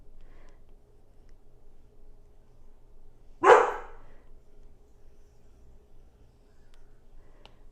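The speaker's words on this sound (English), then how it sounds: "Sorry, my dogs are annoying." A single short dog bark, sharp and fairly close, in an otherwise quiet indoor room.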